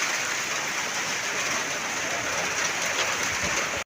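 Heavy rain pours down steadily and loud, a dense continuous hiss of drops striking surfaces with no gaps, close by and constant throughout.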